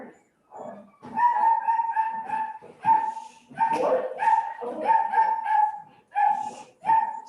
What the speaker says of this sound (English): I've got too many dogs